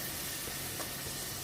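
Water poured over carrots frying in a pan sets off a loud, dense sizzle and hiss that runs unbroken through the moment, with no voices.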